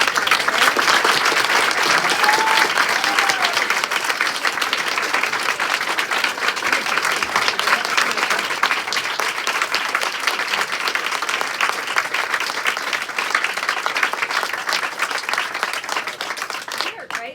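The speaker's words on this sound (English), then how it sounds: "can we have a round of applause for our JPs and our county judge who has really gone to bat for us?" A county Republican committee meeting breaks into a long, steady round of applause, with dense clapping filling the room and a few murmured voices beneath it.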